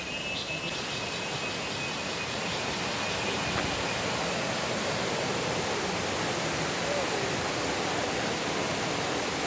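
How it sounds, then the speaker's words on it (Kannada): A monsoon-swollen river that feeds the Kaveri rushes near a waterfall, making a loud, unbroken roar of flowing water that stays even throughout. "ನೀರಿನ ಸೌಂಡ್ ಎಷ್ಟು ಚೆನ್ನಾಗಿ ಕೇಳಿಸ್ತಾ ಇದೆ"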